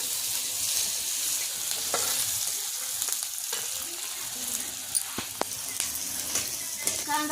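Onions frying in oil in a kadai wok, a loud continuous hissing sizzle up close, broken by occasional sharp taps and scrapes of a stirring spoon.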